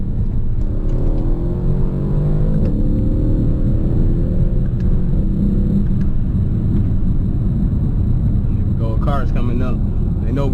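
A Mercedes-Benz CLS 63 S AMG V8 engine roars in a dense, sustained low rumble from inside the cabin during a launch control start, steady and loud throughout, with a few brief higher sounds near the end.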